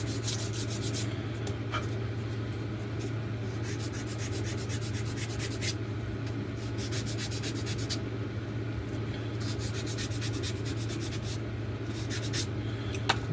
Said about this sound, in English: We'll just clean it up with a bit of free sandpaper like that.